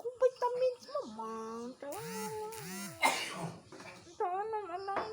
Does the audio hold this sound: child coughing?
yes